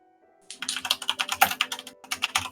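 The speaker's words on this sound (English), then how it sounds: "I'll type this out for you." Someone types on a computer keyboard in a steady, rapid run of close, crisp key clicks lasting about two seconds, with a faint background hum and no talking.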